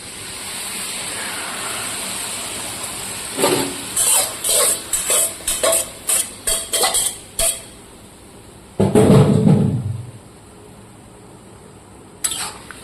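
Bottle gourd going into a pan with a little water for a home-style vegetarian bori and lao curry: a run of close spoon-and-pan clatters, then a brief loud hiss and bubble as it hits the pan, followed by quieter stirring.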